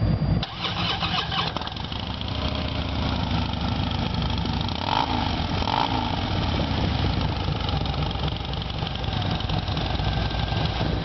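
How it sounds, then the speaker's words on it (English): A 2012 Harley-Davidson Dyna Wide Glide with a rubber-mounted 103 motor cranks and fires, then settles into a loud, close, steady loping idle. "Here at startup."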